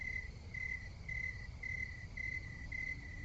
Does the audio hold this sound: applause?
no